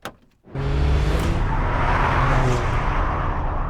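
A Toyota GR Corolla on a race track starts after a brief quiet moment, then its engine holds a loud, close, continuous drone with a steady, rising tone.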